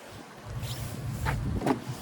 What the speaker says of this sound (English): this wind is atrocious out here